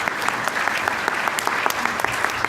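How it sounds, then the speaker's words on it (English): A seated audience at a Global Burden of Disease Study 2010 panel gives the speakers a round of applause: brisk, even clapping from a mid-sized room, continuous and moderately loud throughout. "So a round of applause,"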